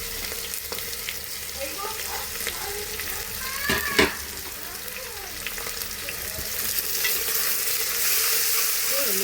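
Thinly sliced onions sizzle steadily in a pan as they fry toward brown for a chicken pulav, with occasional stirring scrapes and a brief clank near the middle; no voices.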